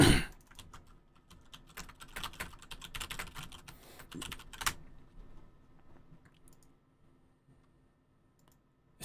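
Rapid clicking and clattering of computer keyboard keys, including the Alt and Windows keys, pressed in a steady busy run for a few seconds before stopping and leaving near silence.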